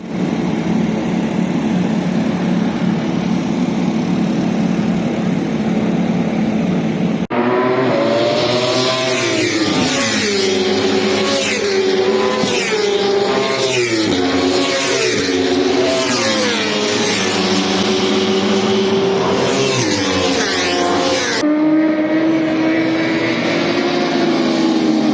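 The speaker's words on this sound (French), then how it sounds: "je vous montre ce que c'est une course de moto" Motorcycle racing engines at the 25 Hours of Spa, first a steady distant drone, then loud bikes screaming past in quick succession with rising and falling pitch and gear changes, easing back to a continuous background roar with no talking.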